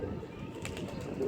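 Loft pigeons coo in soft, continuous overlapping murmurs close by, with a faint wing flutter possible and no speech.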